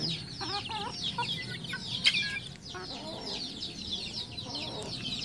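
Newly hatched chicks and young roosters cheep and cluck in a pen, with brighter peeps scattered over a soft, continuous background of fowl chatter.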